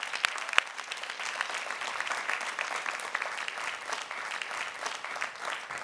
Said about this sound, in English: Let's give yourselves and all of the participants a big round of applause.